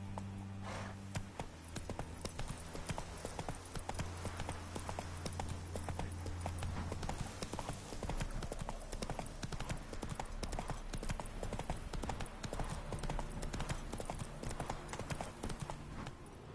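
Roach, the horse in The Witcher 3, gallops steadily with rapid, close hoofbeats and a faint whinny, over a low musical drone.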